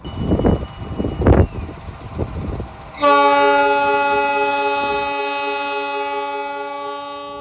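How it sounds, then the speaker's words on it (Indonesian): The Purwojaya passenger train, leaving a station in southern Java, sounds its horn in one long, loud, sustained blast that starts abruptly after a few seconds of quieter, irregular noise and slowly fades. "berarti kereta api Purwojaya sudah aman untuk diberangkatkan"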